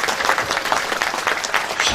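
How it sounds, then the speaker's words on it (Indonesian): Lively applause for the santri during a religious talk, a dense patter of clapping from the gathered audience that holds steady for about two seconds. "Tepuk tangan yang meriah untuk santri."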